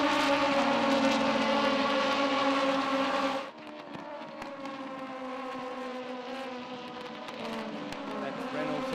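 Race cars in a Trophy Tour round at Sydney Motorsport Park, a loud sustained engine drone with strong harmonics that drops abruptly partway through, then continues steadier beneath commentary.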